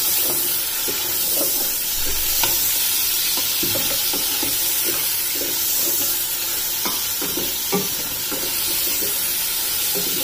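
Mutton with whole garam masala fries in oil inside a pressure cooker, giving a loud, continuous close sizzle with scattered stirring scrapes and clinks.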